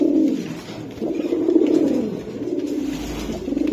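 Several pigeons in a home breeding loft coo continuously at close range, overlapping throaty warbles rising and falling in soft swells without pause.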